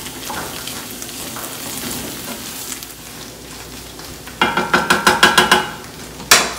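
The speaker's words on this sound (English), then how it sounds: "You just mix it all in together." Cauliflower fried rice with egg sizzles steadily in a pan, then a run of sharp rhythmic scraping clanks as a utensil stirs and mixes everything together, ending with one louder knock.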